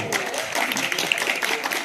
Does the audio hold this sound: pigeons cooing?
no